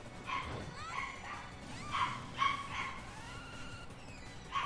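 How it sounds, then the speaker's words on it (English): A dog barks and yips indoors somewhere in the background, several short faint bursts spread unevenly across a few seconds, heard alone without talk. "I hear a dog barking."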